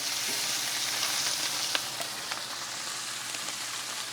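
Sous vide chuck steaks sear in a hot pan with a continuous hissing sizzle and a few crackling spits, moderately quiet and even throughout, with no voices over it.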